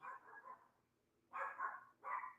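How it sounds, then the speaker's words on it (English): A household dog barks in short bursts indoors: a run of barks at the start, then two louder, closer barks after a brief pause, with no talking over them. "This damn dog better stop barking."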